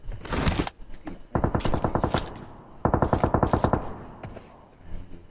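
Automatic weapons fire in a Thai-played video game: two sustained, rapid bursts of loud machine-gun shots, each lasting over a second, with short single shots and scraping noises in between.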